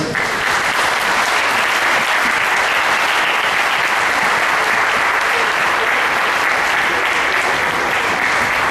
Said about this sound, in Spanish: Sin más, pido para él un aplauso y le dejo la mesa.